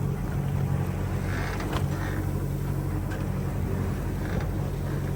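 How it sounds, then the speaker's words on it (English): Low, steady engine rumble of passing boats carries over open water, a continuous drone with no voices. "We've had some boat traffic out here. Had a couple of boats just go past us."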